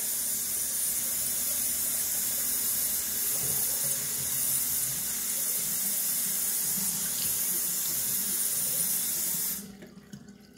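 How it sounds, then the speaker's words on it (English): A faucet runs cold water in a steady, close splashing stream into a sink for about nine and a half seconds, then shuts off abruptly, leaving near silence. "Cold water rinse."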